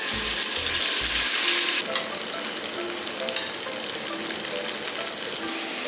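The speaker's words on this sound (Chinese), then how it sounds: "再把豆腐放下去煎" Tofu pan-fries in a little oil in a flat pan. A loud hiss opens the sound, then settles into a steady, close crackling sizzle.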